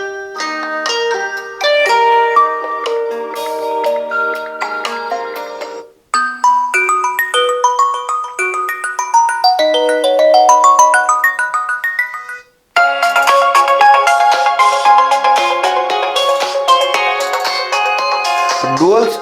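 Ringtone melodies play loud and clear through the dual stereo speakers of a Tecno Spark Go 1 phone with DTS sound, three bright, tuneful phrases separated by brief pauses.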